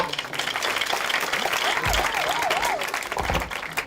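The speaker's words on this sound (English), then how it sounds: "Can we clap?" An audience at a university career, innovation and entrepreneurship week event giving a professor a sustained round of applause, dense and steady throughout, with faint voices mixed in.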